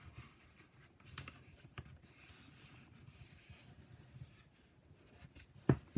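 Gentle creasing of a fold in fabric for an A5 elastic pouch, soft rubbing strokes pressed close and quiet, with a few faint taps and no talk.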